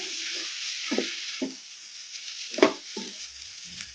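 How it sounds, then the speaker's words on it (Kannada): Brinjal pieces fry in a pan under a soft, continuous sizzle while a spatula stirs them, adding a few quiet scrapes and knocks at irregular intervals; fairly faint, no voices. "ಇದೇ ಥರ ಕಲಿಸ್ಕೊಂತ ಫ್ರೈ ಮಾಡ್ಕೋಬೇಕು ಬದನೆಕಾಯಿಯನ್ನು"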